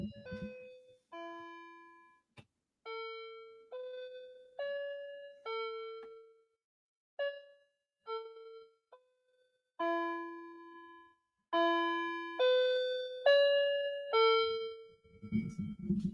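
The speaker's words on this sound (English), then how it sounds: "The clock has chimed." Clock chiming a long melodic sequence of clear bell-like tones, each note ringing and decaying in a steady rhythm, heard alone and fairly close.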